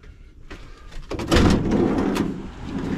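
A fuel station door at an IPF station on Argentina's Ruta 40 opens with a brief clunk and slide, followed by a rush of wind noise that stays loud to the end.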